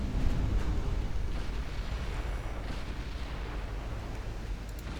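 Naval gunfire from warships in the battleship strategy game Ultimate Admiral Dreadnoughts, a steady low rumbling barrage of distant booms with a louder thump near the start, no voices heard.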